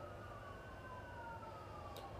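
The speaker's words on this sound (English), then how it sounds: "Sorry for the sirens" A wailing emergency vehicle siren sweeps slowly up and down at a distance, steady over low traffic rumble, with no voices.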